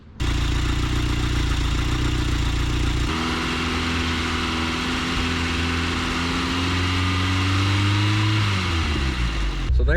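A 1979 Chevy LUV pickup engine runs steadily close by, then its revs climb slowly, drop and surge again near the end, a loud continuous mechanical drone with little else heard.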